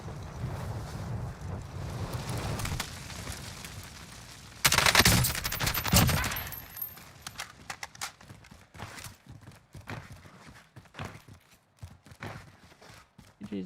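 Gunshots in the Warzone video game come through as a loud noisy burst midway, then a scattered string of sharp individual shots over rushing wind-like background noise.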